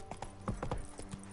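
A ridden horse trots in a video game, a quick run of close, moderately soft hoof clip-clops in an uneven rhythm over a short stretch.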